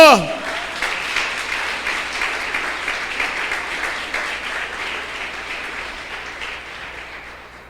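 A church congregation bursts into sustained applause, many hands clapping together, slowly fading over several seconds.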